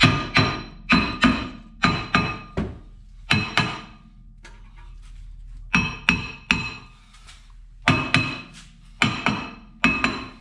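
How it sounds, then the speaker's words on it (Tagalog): Sharp metallic hammer blows on a stuck car disc brake part ring out in quick clusters of two to four, pausing briefly between bursts, loud and close. "Pinupukpok lang yun eh."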